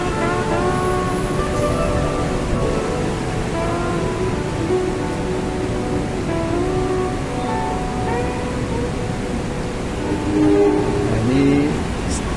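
A train rumbles through Bekasi station in heavy rain, a steady dense roar with faint horn-like tones, rain hiss throughout, and a brief louder swell near the end.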